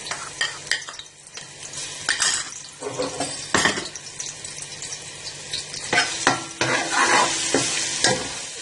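Loud sizzling of ginger garlic paste frying in hot oil, with repeated stirring and scraping against the pan, close up and no talking.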